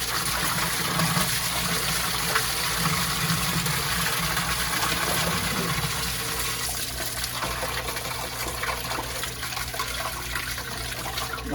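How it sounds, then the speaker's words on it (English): Water being pushed through a sump pump line with a check valve, heard as steady rushing, gushing flow at moderate level that continues throughout with no talk. "I'm gonna push the water here because we have a check valve."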